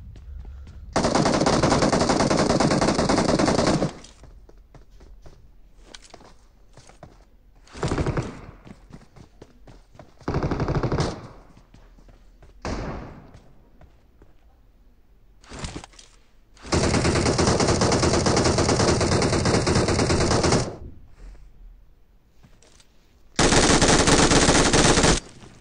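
Automatic gunfire from a PUBG Mobile solo-versus-squad match, with loud sustained bursts of rapid shots repeating in several long volleys separated by short gaps and scattered single shots, no talking.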